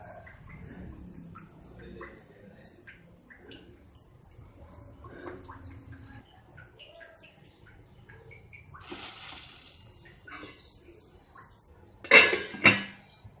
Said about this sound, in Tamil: நான் இட்லி எல்லாத்தையும் அதில் ஊற்றி இட்லி வேக வைக்க போகிறேன்.